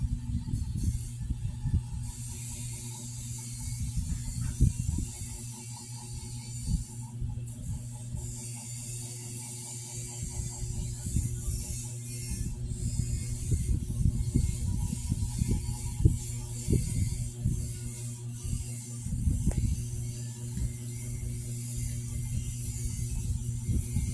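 Lat pulldown gym machine in use, its cable and weight stack producing repeated clanks and mechanical rattles in a steady rhythm over a constant low hum.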